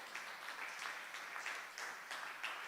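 A church congregation claps together in a steady, fairly even rhythm, soft and somewhat distant, with no talk over it.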